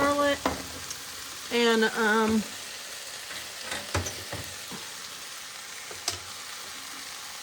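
Beef macaroni sauce warming with onions in a pan, home-canned sauce pre-cooked with onions and garlic, off-grid cooking: a soft steady sizzle with a few sharp utensil clinks, briefly under a speaking voice.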